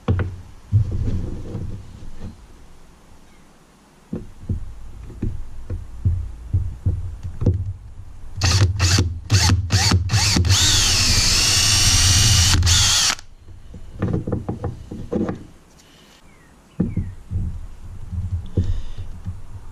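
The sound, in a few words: power drill pre-drilling a hole in plastic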